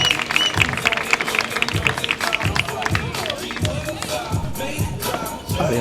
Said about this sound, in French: nous allons pouvoir faire un tonnerre d'applaudissements pour Noémie Aguilar